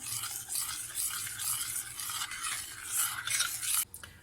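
Cherry tart batter with starch mixed in is stirred quickly in a pan, a continuous close swishing and scraping with rhythmic pulses that stops abruptly near the end, with no voices.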